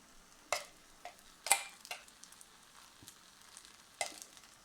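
Battered chicken pieces crackle faintly in hot frying oil, a quiet low hiss broken by a few sharp pops and spatters at irregular intervals.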